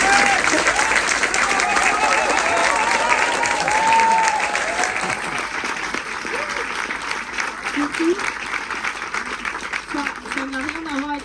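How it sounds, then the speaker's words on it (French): Loud, dense audience applause fills a hall at a talk on ecology and work, gradually thinning and fading while voices and murmurs emerge beneath it toward the end. "Je pense qu'on peut largement l'applaudir aussi."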